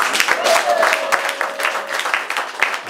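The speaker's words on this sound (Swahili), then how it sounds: "Jamani, makofi kwa Bwana." A church congregation claps together in sustained, lively applause, a dense patter of many hands with a faint background voice.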